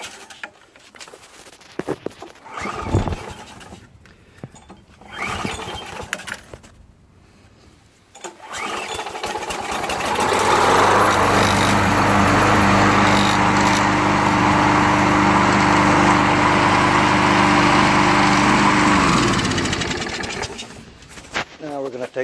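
Craftsman 6HP self-propelled lawn mower engine being started after a fuel fix: someone talks briefly, then the small engine catches and runs loud and steady for about ten seconds before cutting off.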